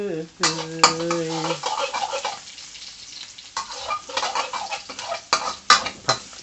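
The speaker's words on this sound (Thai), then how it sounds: "ผัดเจียวเทียมให้หอมนะครับ" Garlic stir-fried in a pan while preparing rad na with marinated pork, giving a burst of stirring and scraping with sizzling frying, close and fairly loud, with sharp utensil clinks against the pan.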